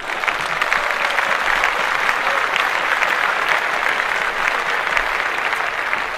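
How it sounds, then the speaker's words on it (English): A room full of people clapping steadily in loud, dense applause that holds evenly from start to finish with no talk over it. "Clap that up."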